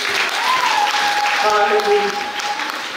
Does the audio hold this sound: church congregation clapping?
yes